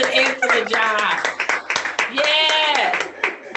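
Clapping in a courtroom session: brisk rapid handclaps from a few people, close and steady for a few seconds, mixed with loud cheerful talking over them.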